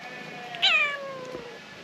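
A single cat meow with a rising then falling tone, fairly close, over a steady low background hiss, among ruins on a Greek island.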